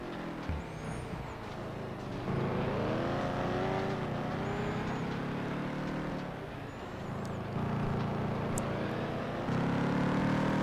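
Race car engine in the PS2 racing game FlatOut 2, a steady loud drone with rising and falling revs through gear shifts, continuous throughout with other engine and crash sounds mixed in.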